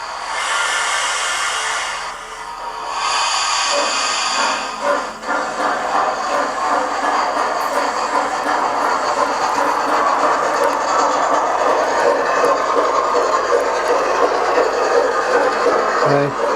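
Model P2 and Stanier Black 5 locomotives run together on the same track with a continuous close whirring and rumbling, plus a hiss at the start, steady and without talk.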